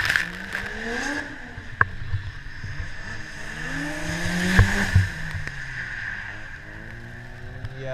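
A drift car at Ebisu Circuit in Japan revs and slides through corners, its engine note rising and falling in sweeping pitch changes, with sharp pops and a louder surge near the middle, heard at moderate distance with no talk.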